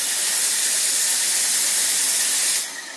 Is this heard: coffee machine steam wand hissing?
yes